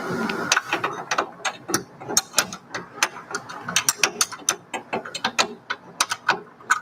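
Socket wrench ratcheting while working in a Datsun engine bay during a twin turbo engine install, a close series of quick, uneven metallic clicks in rapid strokes.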